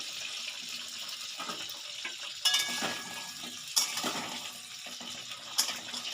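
Pointed gourd (potol) frying in a pan on a low flame, a soft continuous sizzle close by, broken by a few sharp clinks and stirring scrapes, with no talk.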